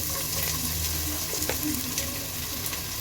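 Chopped onion going into a pot of hot oil with bay leaf and garam masala for beef tehari, a steady close sizzle and hiss running throughout.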